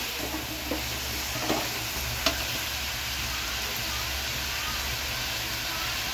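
Onion, small onions, garlic and tomato fry in a pan for fish curry, giving a steady, moderately quiet sizzle with a few faint stirring clicks.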